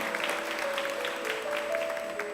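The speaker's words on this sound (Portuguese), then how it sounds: "Pode aplaudir, gente." A church congregation applauds in dense, steady clapping that fills the space, loud and continuous, with a faint sustained tone underneath.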